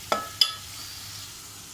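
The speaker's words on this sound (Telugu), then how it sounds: "ఇప్పుడు మనం అన్నం కలిపి మిక్స్ చేసి పెట్టాం కదా, ఆ రైస్ కూడా ఇందులో వేసేస్తాం." Cooked rice for lemon rice is tipped into a hot pan and stirred, two sharp close scrapes followed by a soft sizzling hiss.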